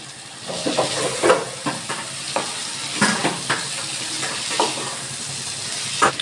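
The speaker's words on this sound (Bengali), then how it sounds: "আমি এবার দিয়ে দিচ্ছি চিকেন এবার দিচ্ছি আমি কিছু আলু ছোট ছোট করে কেটে ভেজে তুলে রেখেছিলাম আলুটা দিয়ে দিলাম" Chicken and small pieces of pre-fried potato in a hot pan for a chicken and pea ghugni, a steady close sizzle and hiss with repeated scraping strokes of the stirring spoon.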